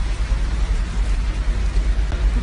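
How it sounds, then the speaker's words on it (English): Steady rain falls in Dubai, a continuous broadband hiss of drops hitting surfaces that holds at an even, fairly loud level throughout, with no voices. "it's raining in Dubai right now"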